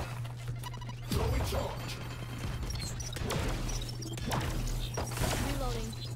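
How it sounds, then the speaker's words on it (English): Glass cracks and shatters under gunfire in the shooter game Valorant. Several sharp, fairly faint impacts are spread across a few seconds over a background hum, and voices can be heard in the mix. "someone shot through the glass"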